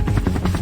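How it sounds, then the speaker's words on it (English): A helicopter approaches with a loud, close rotor thump beating in a steady fast rhythm over a low engine drone, heard alone. "Chopper's inbound."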